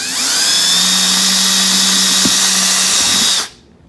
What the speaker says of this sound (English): I need to drill holes in the top of this.